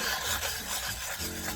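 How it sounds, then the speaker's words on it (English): Charcoal pencil turned in a hand sharpener, giving a steady close-up dry rasping scrape that runs without pause. "So we're going to try the hand sharpener on this one."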